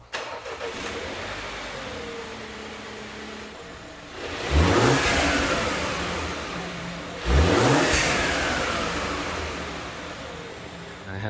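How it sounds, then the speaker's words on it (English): A BMW X1 F48 accelerating twice in succession, each run rising from a low engine rumble into a climbing whine with turbo whoosh before easing off, heard close and loud with no talking. "it makes really cool turbo noises, surprisingly"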